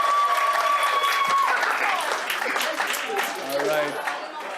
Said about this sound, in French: On peut-tu l'applaudir lui, s'il vous plaît?